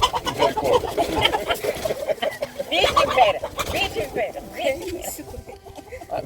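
Chickens clucking in a rural outdoor setting in the Brazilian sertão, steady busy clucks and calls throughout at moderate loudness, mixed with other birds and background noise.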